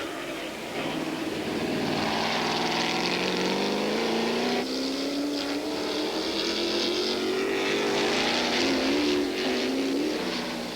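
A Chevron B16 prototype race car, number 45 and fully restored, passes on a circuit at a vintage Grand Prix, its loud engine note rising steadily in pitch as it approaches and sweeps by.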